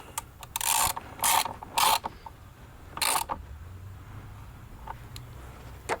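Ratchet wrench tightening the battery terminal clamps on a Honda Odyssey, several short bursts of quick clicking separated by pauses, close and fairly quiet, with faint handling noise between strokes.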